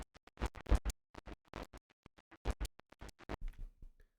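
Percussive drum loop squashed by a very aggressive compressor with attack and release at zero, giving choppy, gritty, distorted hits in an irregular pattern with sharp gaps between them, at a fairly quiet level.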